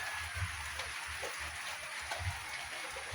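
Light but steady rain falls continuously over the sea at dusk, a soft, even hiss of drops with a low rumble underneath and no talking.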